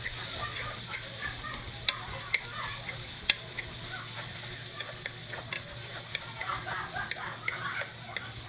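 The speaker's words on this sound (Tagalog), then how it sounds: "Haluin." Ground meat and mixed vegetables are stirred in a frying pan over a quiet, steady sizzle, with occasional sharp clicks of the spatula against the pan, faint and close.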